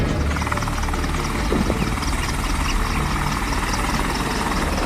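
An Indian Light Combat Helicopter (LCH), a roughly six-tonne attack helicopter, roars loudly and steadily with a constant engine whine and a fast rotor chop, close up and without voices.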